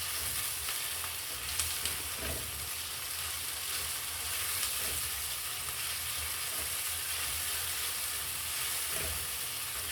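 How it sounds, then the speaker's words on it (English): Tomato paste stirred and frying in a pan for an egg stew, a steady close sizzle with soft scraping strokes of the spoon running throughout, no talking. "Then you'll add 1 teaspoon of tomato paste and stir."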